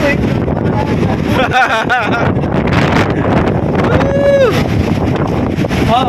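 Strong typhoon wind under a Signal No. 1 storm in Camarines Norte, roaring steadily and loudly across the microphone near rough waves, with voices talking and rising tonal calls over it.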